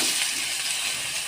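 Vegetables tipped into hot oil with cumin seeds in a wok, giving a steady, close, bright sizzle and hiss with no talking.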